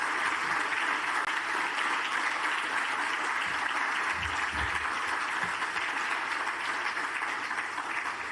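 Audience at a food safety forum in Vienna applauding a team invited onto the stage, a steady, even wash of clapping at moderate level with no speech.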